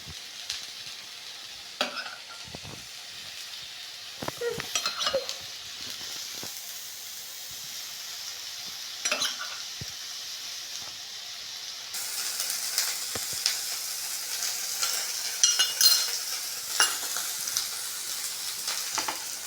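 Fish fries in a pan, a soft continuous sizzle broken by scattered stirring scrapes and taps, the frying hiss growing brighter and louder toward the end.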